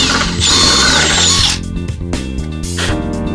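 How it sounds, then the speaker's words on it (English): A power drill whines at high speed as it bores into wood, then slows and revs in short bursts, loud and close. "so I'm going to drill a little bit into the wood"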